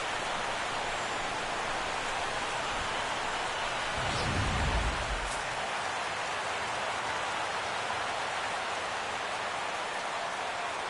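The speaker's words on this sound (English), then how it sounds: "the rain is coming down hard here" Heavy rain pours steadily over a baseball stadium in Miami during a minor league all-star game, a dense, even hiss throughout, with a brief low rumble near the middle.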